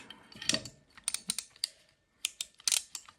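A 12 mm ratchet tightens a bolt on a Twin Taylor 70cc Baja 5B steering build, giving faint, close metallic clicks and clatters in short irregular bursts separated by brief pauses.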